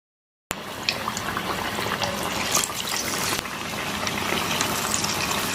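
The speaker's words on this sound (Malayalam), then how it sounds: "നമുക്ക് ആവശ്യത്തിനുള്ള വലുപ്പത്തിനുള്ള മാവ് എടുത്ത് പരത്തിയതിന് ശേഷം എണ്ണയിലേക്ക് ഇട്ട് കൊടുക്കുക." Onion vada batter dropped into hot oil starts frying suddenly after a short silence, then settles into a steady, close bubbling hiss with scattered crackles and pops.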